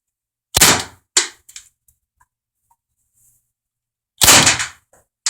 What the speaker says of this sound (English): now let me show you what this target will look like when it gets shot